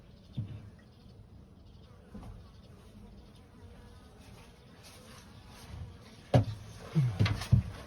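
Honeybees drone steadily around AZ Slovenian beehives being readied for winter, a close, continuous buzz with occasional knocks and handling thumps toward the end.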